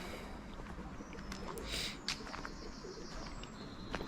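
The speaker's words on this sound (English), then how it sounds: "These cheeky pigeons" Pigeons coo softly among the monuments of a London cemetery, with faint bird calls and a brief wing flutter over steady outdoor background noise.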